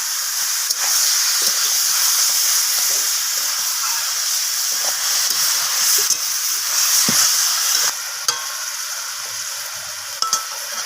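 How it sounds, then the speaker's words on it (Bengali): Chicken frying in a pan with onion, tomato and capsicum gives a loud, steady sizzle and hiss, with occasional scraping stirs and light clinks toward the end. "চিকেনটাকে আমি সমস্ত কিছুর সাথে এইভাবে নাড়াচাড়া করে একটু ভেজে নেবো চিকেনটাকে।"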